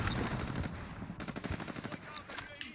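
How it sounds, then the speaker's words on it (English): Rapid cannon fire from Call of Duty: Modern Warfare, dense bursts of loud shots rattling in quick succession amid game noise, without speech on top. "he's got the cannon out, I can hear it"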